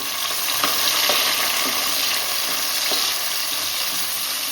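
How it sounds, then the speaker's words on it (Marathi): Chopped tomatoes sauté in hot oil over golden fried onions for a crab curry, producing a loud, continuous sizzle with scattered stirring clicks close by and no speech. "आता आपण टॅमॅटो टाकू मस्त तोही परतून घेऊ मस्त तेलामध्ये"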